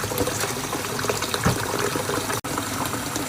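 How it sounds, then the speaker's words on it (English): Lemon juice poured into water in a kitchen, a close liquid splash and trickle running steadily with a brief gap near the end, no talking. "Adding lemon juice to the water."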